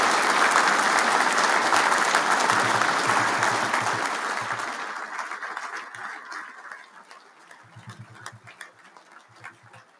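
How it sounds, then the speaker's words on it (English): A banquet crowd at a Marine Corps awards dinner applauds a rifle squad from 3rd Battalion, 2nd Marines; loud sustained clapping fades out after about five seconds, leaving scattered murmurs and light room noise. "if I can have a round of applause for the preeminent rifle squad in the Marine Corps from 3rd Battalion, 2nd Marines"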